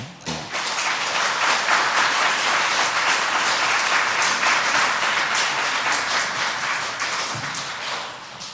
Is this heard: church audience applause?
yes